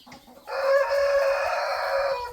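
A road rooster, a big, rugged breed, lets out one long, loud crow close by, rising sharply after a brief quiet start and holding strong to the end.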